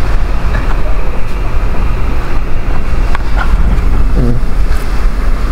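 Strong gusty typhoon wind roars steadily into the microphone, a dense rumbling rush with no letup, with faint knocks and sounds under the buffeting.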